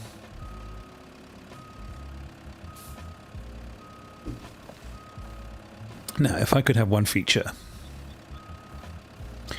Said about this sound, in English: turn off the reverse beeps